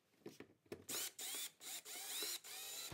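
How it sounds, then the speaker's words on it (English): A hand screwdriver drives a mounting screw for an LED light dimmer switch, giving a close series of sharp ratcheting, grinding bursts separated by brief pauses. "We want to screw it so it's very tight."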